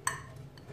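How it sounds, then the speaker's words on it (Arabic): A single light clink of a ceramic serving plate as a fried semolina batter flatbread is set down on it, followed by a faint second tap. "انا غنحطها دابا في طبق التقديم"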